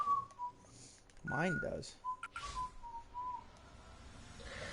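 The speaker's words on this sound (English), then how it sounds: "you can hear your whistling loud and clear" A person whistles a few wavering, gliding notes close by, with short bursts of talk breaking in between the phrases.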